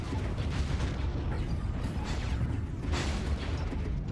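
Dense space battle in Stellaris with gunfire and bright blue turbo lasers, heard as a steady, continuous roar of overlapping bursts and booms with no single shot standing out.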